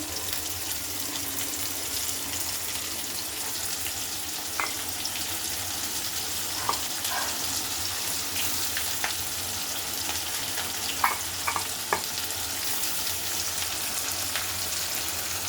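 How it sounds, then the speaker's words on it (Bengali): Spices are stir-fried in a pan with a steady, close hiss of sizzling oil that runs throughout, broken by a few brief clinks and scrapes of a stirring utensil. "দিয়ে ভালো করে মশলা কষায় নেব"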